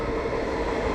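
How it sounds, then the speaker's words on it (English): A train rumbles in at a station in Bad Endorf, Bavaria, a steady close low roar with rail hum, loud and continuous over the short moment, with no voices over it. "And here comes the train."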